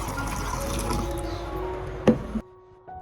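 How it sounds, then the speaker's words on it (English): Clean filtered water pours into a container in a steady stream for about two seconds, followed by a couple of light knocks and the flow stopping, then near quiet. "I pour in exactly 1 liter of clean filtered water"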